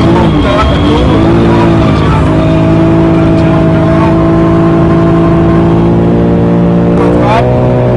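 A BMW M3 holds a long drift through a corner, its engine droning loud and steady with rising revs and a brief tyre screech near the end, while someone talks over it.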